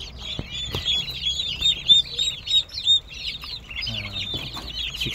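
Young ducks on a backyard farm chirp and peep in a busy, overlapping chorus close by, with brief low thumps and rustling beneath the calls.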